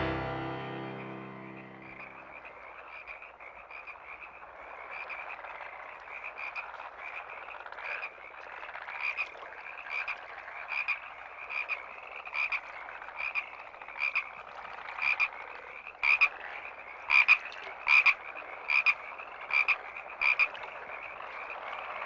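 Frogs croak in a dense, continuous night chorus, with pulsed calls repeating in a regular rhythm that grows louder and more distinct over time, heard alone without voices.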